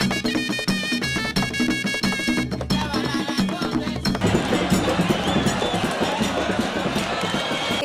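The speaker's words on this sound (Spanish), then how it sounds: "La conga santiaguera suena así." Santiago de Cuba conga recording, loud and unbroken: busy driving percussion with a noisy, crowd-like street wash that thickens partway through, with no talk over it.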